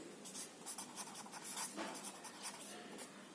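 Pen scratching across paper in a classroom maths lesson, a steady run of short, close strokes and taps over a few seconds with no voice.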